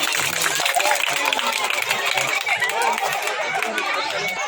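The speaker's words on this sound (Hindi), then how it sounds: "तालियां बच्चों जोरदार।" Children at a school annual function clap and cheer as a dense, steady crowd sound running the whole way through, mixed with chatter and scattered voices.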